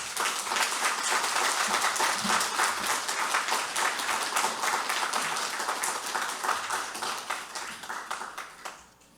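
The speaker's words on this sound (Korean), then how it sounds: "목사님 나오실 때 큰 박수로 환영해 주시기를 바랍니다" A church congregation at a Lenten revival gathering gives loud, sustained applause to welcome a visiting pastor, dense overlapping clapping that holds steady and then tapers off toward the end.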